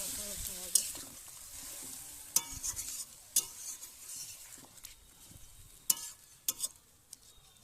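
Pointed gourd and fish filling being mixed by hand after a splash of water, with soft wet squelching and scattered sharp clicks of utensils, quiet and close with no talk.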